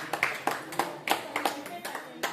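Sparse, separate hand claps from a small village audience, about a dozen sharp close claps in a loose uneven rhythm rather than a full ovation.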